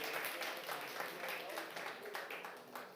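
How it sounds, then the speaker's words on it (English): An audience at a live art auction breaks into applause, a dense, steady wash of clapping heard somewhat distant and fairly faint throughout. "That deserves applause."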